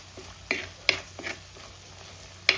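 Spice paste frying in oil for a chili fish curry with kudampuli: soft sizzling under several sharp scrapes and stirs of a spoon against the pan, close and fairly quiet.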